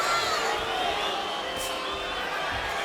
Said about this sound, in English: the crowd starts to hoot and holler a bit too